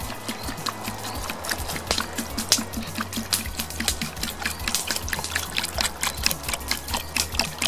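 Water is poured into a cooking pot of carrots over a campfire for a venison soup, giving a continuous close trickling splash with rapid irregular patter that runs unbroken from start to finish.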